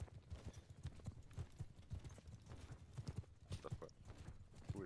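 Horse hooves pound in a rapid, dense clatter during the Battle at Baltakhand in a multiplayer video game, with many mounted troops galloping at once amid general battle noise.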